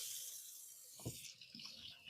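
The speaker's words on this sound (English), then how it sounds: "Give my hands a quick rinse" Tap water running at a kitchen sink as hands get a quick rinse, a faint steady hiss with a brief splashy burst midway and some light handling noise.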